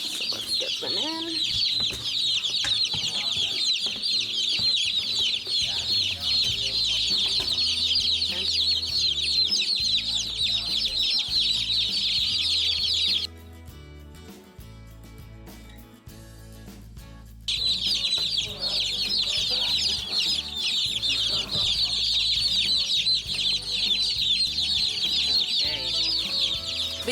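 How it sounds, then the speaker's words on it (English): Constant high-pitched peeping from a crowd of day-old Cornish cross meat chicks, busy and overlapping, pausing briefly midway before resuming, with soft low background noise. "Okay, so here we have the meat chicks."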